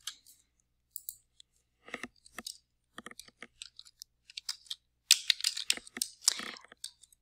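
A phrase being typed on a computer keyboard while filling in a Word form, bursts of light plastic key clicks separated by short pauses, close and fairly quiet, with no talking.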